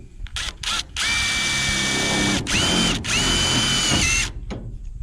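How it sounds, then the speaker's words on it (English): A power drill drives a screw into roof construction material, several short whirring bursts and then longer sustained runs that strain as the screw seats, close and loud. "Alright, I'm gonna screw this in right here."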